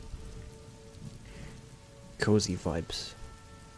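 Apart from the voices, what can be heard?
rain ambience sound playing with Skyrim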